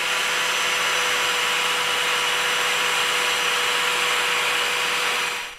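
An older corded Ryobi AG453 angle grinder, rated around 11,000 RPM, runs at a steady high-pitched whine for several seconds, close and continuous, with no voices.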